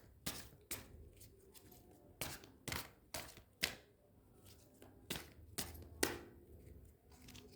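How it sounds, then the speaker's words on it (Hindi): Tarot cards being shuffled by hand, a series of sharp, close riffling snaps in an irregular rhythm, each burst short, with no talking. "चलिए थोड़ा सा और शफल करते हैं।"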